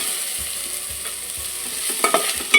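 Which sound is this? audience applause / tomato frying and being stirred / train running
tomato frying and being stirred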